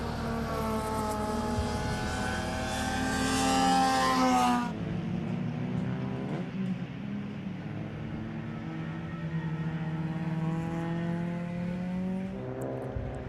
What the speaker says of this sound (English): as we watch cars peeling through turn 5 and 6 there under the GSR lights